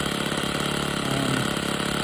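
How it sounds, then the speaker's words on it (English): A four-stroke engine on an RC Vintage Cub model airplane idles with a steady, fast, even putter, close and constant throughout. "bring it back down to idle. That's just kind of your idle speed"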